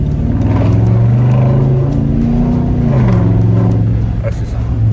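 Nissan Titan pickup fitted with a new Flowmaster Super 10 exhaust, a loud, close, continuous deep engine drone whose pitch rises and falls as the truck revs, with people talking faintly underneath.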